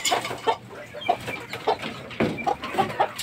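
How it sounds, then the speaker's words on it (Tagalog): Fighting cock chickens cluck in a steady series of short, close calls, with several sharp clucks repeating across a few seconds and no one talking. "Ayan ang mga manok."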